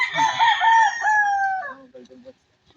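A rooster on a chicken farm crows once, loud and close, in a long drawn-out call that tapers off, followed by a few short clucks.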